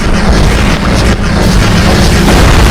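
A loud, booming cannon blast in an animated Skibidi Toilet episode roars with a dense, rumbling explosion that fills the whole moment.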